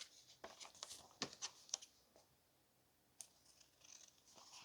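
Scissors snipping the edges of a paper envelope, a quick run of close, crisp cuts followed by a pause and one more sharp snip, with faint rustling of paper between.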